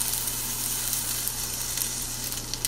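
A grilled cheese sandwich sizzles in a pan just after being flipped, giving a faint, steady frying hiss with small crackles and no talk.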